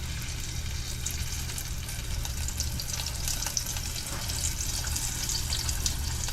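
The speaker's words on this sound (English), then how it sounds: "then I'm just gonna drop it in the fryer" Egg-washed eggplant drops into a fryer, and hot oil gives a steady, close hiss and sizzle that continues evenly with no voices.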